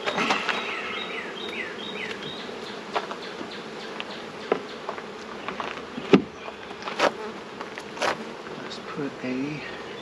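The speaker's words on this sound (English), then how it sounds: "Put this back on and get out of this hive. This is a swarm," Honey bee swarm at a hive buzzing in a steady, dense drone, with individual bees passing close, plus occasional clicks and knocks of hive equipment handled nearby.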